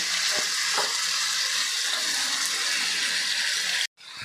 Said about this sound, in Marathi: आता हे सगळं चिकन घातल्यानंतर हाय फ्लेमवर आपल्याला पाच मिनटे हे परतून घ्यायचं आहे